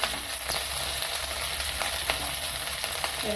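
Grated coconut, green chilies and garlic sauté in a hot pan for a Maharashtrian festive meal, giving a continuous crackling sizzle with occasional stirring scrapes, steady and close with no voices.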